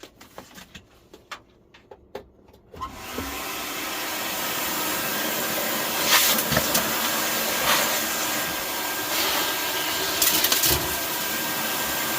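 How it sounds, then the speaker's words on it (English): A Hoover vacuum cleaner starts outdoors after a few quiet seconds of small clicks, sucking up hazelnuts from fly-tipped TVs. It runs as a loud, steady whine with occasional rattling surges. "I think I'm gonna have to get the Hoover out for this one."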